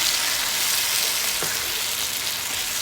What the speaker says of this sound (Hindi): ये टमाटरों के साथ अच्छी तरह से फ्राई कर लिया है।